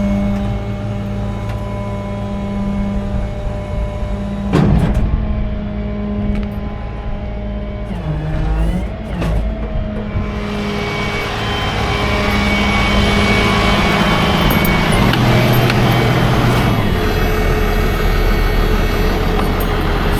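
A tow truck engine runs at a steady idle while its cooling fan works, the fan's whooshing roar swelling noticeably louder partway through and staying up, close by.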